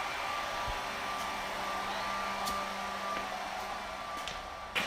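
A hairdryer blows with a steady, even whoosh and a faint high whine near the mic while silicone is demolded, with a few small clicks and handling knocks on top.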